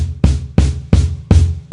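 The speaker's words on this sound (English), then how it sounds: "So here's an 18-inch bass drum coming in." An 18-inch bass drum sound layered through an EAD-10 trigger over a kit groove, with heavy, booming kicks about every third of a second, loud and close, slightly distorted.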